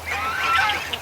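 A close jumble of duck and goose calls rises from a swamp in one brief, continuous burst of honks and quacks, with no talking.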